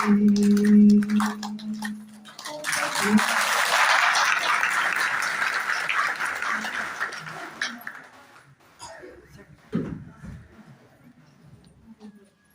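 An audience claps after a devotional Shiva song at a Mahashivratri program, the applause building into a broad wash that gradually fades, with a held tone at the start and scattered voices and thumps toward the end.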